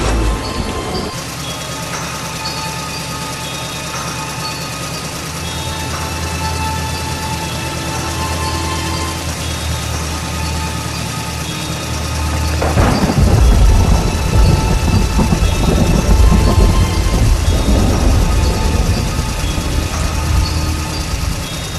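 Heavy rain pours steadily during a storm in an animated horror story, with a deep thunder rumble rolling in midway and the downpour growing louder afterward.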